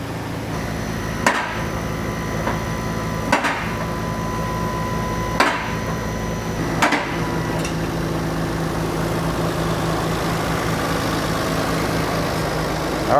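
A Nissan Stagea Autech 260RS with an RB26DETT engine and an HKS front pipe runs at a steady idle, a low hum broken by a few sharp metallic knocks early on.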